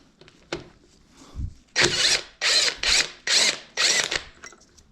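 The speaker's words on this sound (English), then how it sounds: "we're gonna take out that bolt that we just loosened." A power tool on a Mazda engine backs out a loosened, thread-locked bolt in five sharp, evenly spaced bursts, preceded by a few faint clicks and knocks.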